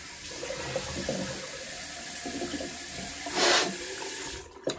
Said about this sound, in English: Let's rinse off. Get all the excess soap off.